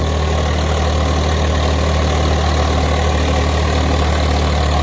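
Tractor engine running with both levers down, a loud, steady low rumble that continues without a break throughout.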